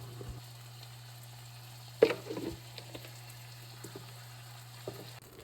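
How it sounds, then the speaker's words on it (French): Fish fries in olive oil in a pan, a quiet steady sizzle with occasional louder pops and crackles over a low constant hum. "je vais mettre mon poisson à frire"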